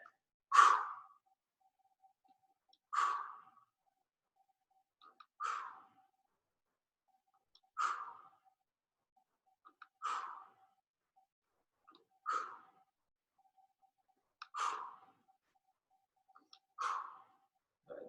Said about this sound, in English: I'm breathing out as the leg comes up, breathing back in as the leg comes down.